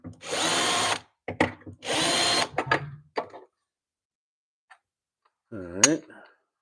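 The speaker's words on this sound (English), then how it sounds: "Next one drilled." A power drill bores a hole during a live building session: two long steady whirring bursts with a few short stop-start pulses, followed by quiet and a brief voice near the end.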